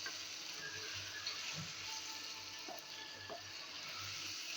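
Soft tomatoes cooking down in a pan for daal karela, a faint steady sizzle and bubbling with light stirring clicks, no talk.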